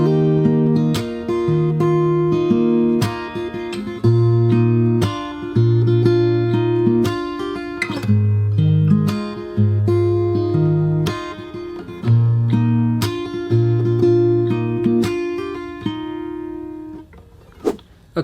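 Fingerstyle acoustic guitar plays the chorus at normal speed, a steady flow of plucked bass notes and chords, close and clear with no voice, ending on a final struck chord.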